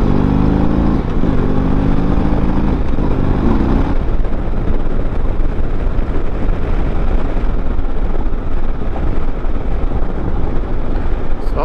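A 2023 Harley-Davidson CVO Road Glide is ridden on the road; its engine hums for the first few seconds before heavy, loud wind roar takes over for the rest of the ride.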